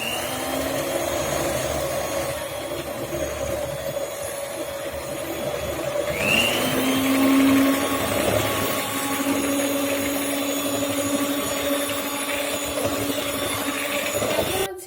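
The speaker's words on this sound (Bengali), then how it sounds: "তাহলে আমি এটা ব্লেন্ড করে নেব" An electric blender whirs steadily as it blends pancake batter, a continuous motor hum with a rising pitch shift partway through as the load changes, running alone for the full stretch before stopping at the end.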